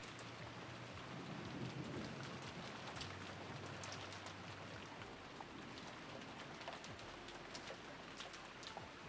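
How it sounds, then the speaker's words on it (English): Steady rain in a visual novel scene, a dense hiss of drops falling on surfaces, with low rumbles of distant thunder and faint bird calls over it, no voices. "The only voice that called after them was the sound of the rain."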